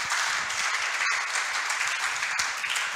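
Congregation applause at a church service, a steady dense wash of clapping that holds evenly through the whole moment, with a couple of sharper single claps standing out.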